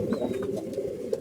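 Pigeons at a home loft cooing in soft, repeated low calls, a steady murmuring close by with a faint chirp near the start and no talk.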